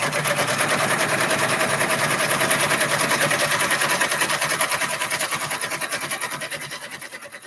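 An embroidery machine stitches thread in a steady, fast mechanical whir with an even pulsing rhythm, loud and close throughout, fading slightly toward the end, with no voices.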